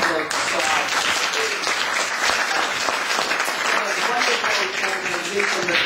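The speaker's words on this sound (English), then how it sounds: "Round of applause for Suad." Loud, sustained applause from an audience at a House of Lords debate on human rights in Saudi Arabia, close and dense clapping that holds steady, with some crowd murmur mixed in.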